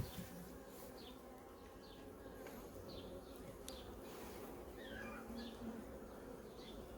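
A honeybee colony just after a light puff of smoke, giving a steady, low insect buzz that fills the clip, with a few brief chirps over it and no talking.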